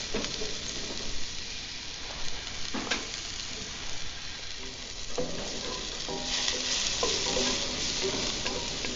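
Red and green bell peppers sizzle steadily in a pan at a campsite meal, with occasional stirring scrapes and clinks over the constant frying hiss.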